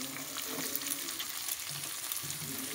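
Chopped bottle gourd tossed into vegetables frying for soup gives a continuous, fairly loud close sizzle with faint stirring clinks and no voices.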